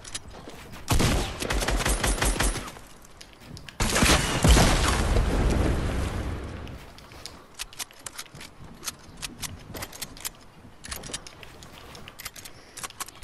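Shotgun blasts in Fortnite come as two loud, close bursts of gunfire with heavy booming tails, followed by a scatter of lighter clicks and sharp shots trailing off.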